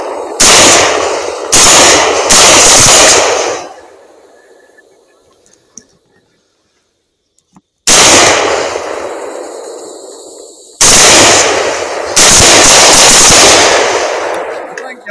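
Rifle gunshots while hunting at night, several loud sharp cracks in quick bursts with ringing echoes, a near-silent pause, then more shots in close succession.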